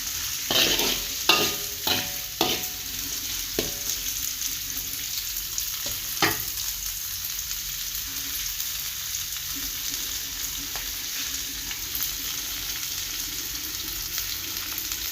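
A Tamil-style curry with added water simmers and sizzles steadily in a hot pan, with a few sharp clinks of a spoon stirring near the start and again midway.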